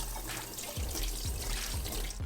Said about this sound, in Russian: Моем яйцо с мылом в теплой воде.